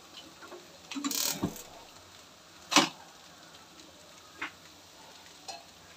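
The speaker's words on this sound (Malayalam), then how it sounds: "നമ്മുടെ വെള്ളരിക്ക മോരുകറിക്ക് കടുക് വറക്കും" Mustard seeds popping in hot oil for a cucumber buttermilk curry: a few sharp, scattered crackles and pops spaced seconds apart over a quiet kitchen background, with no talking.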